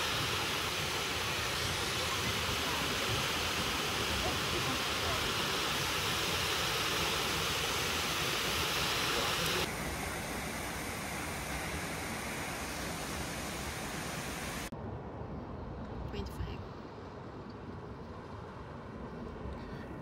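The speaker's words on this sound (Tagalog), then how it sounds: "Dito na kami sa baba ng Looking Glass Waterfall." Looking Glass Waterfall in Asheville, North Carolina, heard from its base as a loud, steady, broadband roar of falling water that drops noticeably in volume partway through.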